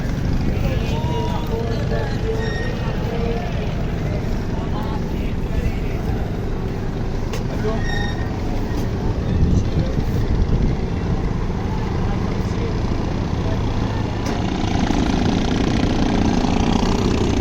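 Engine of a boat running steadily throughout a harbour ride from Kemari toward Manora in Karachi, a loud continuous low drone with water wash, while people talk over it.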